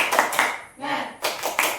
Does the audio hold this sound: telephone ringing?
no